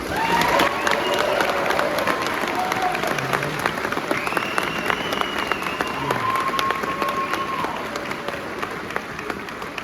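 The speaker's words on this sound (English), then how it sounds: "Give them a round of applause, please." Sustained applause from a large crowd at a college graduation ceremony, dense clapping with scattered cheers and voices, steady and loud throughout.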